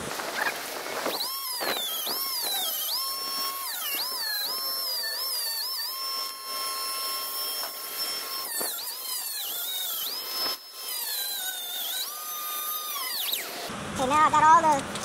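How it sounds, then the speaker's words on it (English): A rotary power tool grinds paint and pits off the gas tank of a 1986 Sea Ray boat, its high-pitched whine rising and dipping steadily through the whole stretch before cutting out near the end. "we're just gonna grind down the dips, and if it's flaking anywhere, we're gonna take that down"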